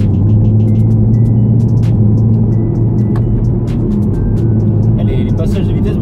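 Inside a 2017 Chevrolet Camaro SS with a 450 hp engine, a steady low engine rumble continues through gear changes made with the paddle shifters, with no sharp jolt and no revving, under a French-speaking voice.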